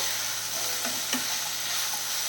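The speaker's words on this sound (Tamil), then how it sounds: "நம்ம எடுத்து வச்சுக்கக்கூடிய சின்ன வெங்காயத்தை சேர்த்துடலாம். அப்புறம் பூண்டையும் சேர்த்துடலாம். சேர்த்துட்டு நல்லா வதக்கி விட்டுருவோம்" Small onions and garlic sauté in a pan over a medium flame, giving a steady even sizzle with a couple of faint stirring clicks.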